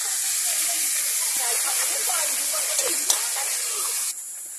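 Fish fry in hot oil with a steady, close sizzling hiss that drops suddenly near the end to a quieter level.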